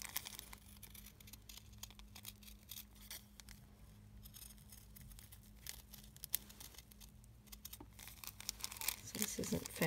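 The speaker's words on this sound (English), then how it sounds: "as I do the curves, which this sample is mostly, I'm actually going to be using closer to the tip of my scissors" Scissors cutting fabric along curves using the tips of the blades: quiet, closely spaced snips and crinkly rustles that carry on steadily, with a few louder cuts near the end.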